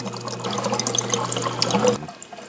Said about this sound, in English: What you get for sticking your hands in the tank.